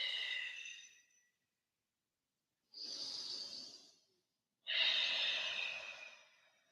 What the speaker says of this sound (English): Let the breath channel out of the body.